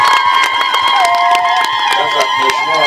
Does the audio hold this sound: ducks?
no